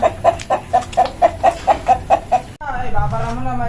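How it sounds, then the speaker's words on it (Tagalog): Native chickens cluck close by in an even, rhythmic series of about a dozen short calls, then a person speaks over farmyard background. "mga tinaling manok. Mga alaga po niya."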